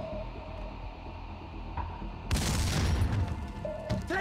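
A grenade explodes in the shooter game Max Payne 2 as a sudden broad burst that follows a low rumbling game ambience, with the crackling blast fading out over a couple of seconds.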